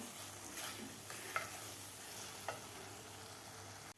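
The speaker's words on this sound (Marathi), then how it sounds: "केळी रव्याबरोबर भाजून घ्यायची आहे आणखीन आपल्याला चार ते पाच मिनिट हा रवा भाजून घ्यायचा आहे" Semolina and banana pieces roast in ghee for a sweet sheera, stirred continuously, giving a steady close sizzle with a few soft scraping strokes, no voices.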